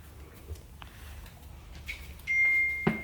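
A single high electronic beep from a phone holds steadily for about half a second, faint against quiet room noise, ending with a soft knock.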